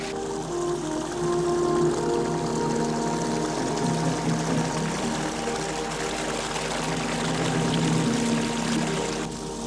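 Lilla Creek overflowing from Lake Lilla, a steady, close rush of pouring stream water that runs unbroken for about ten seconds with no talk over it.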